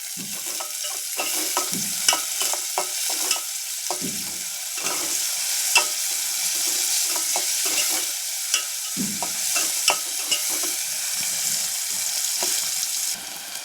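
Onions fry quickly with a pinch of salt in a pan, a steady loud sizzle broken by frequent close scraping stirs, with no one speaking.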